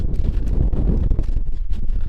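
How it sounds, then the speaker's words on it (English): Strong mountain wind on the Santanoni Range in the Adirondacks, loud gusty buffeting against the microphone with uneven surges, no talk. "Really windy."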